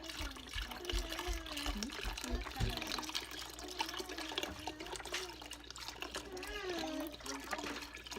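Soy milk from a whole carton pours into a pot for tapioca pudding, a continuous liquid glug and splash running the whole time, close by.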